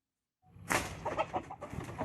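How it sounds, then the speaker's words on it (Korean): A chicken inside a coop shrieks and clucks in agitated bursts after a missed crossbow shot, a sudden near cry followed by a series of uneven squawks with no talking. "화살을 빗맞은 닭이 비명을 지릅니다."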